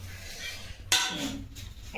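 A metal lid set down on a pot of ration-rice chicken biryani, one sharp clink near the middle of an otherwise quiet moment, with a brief scraping afterward.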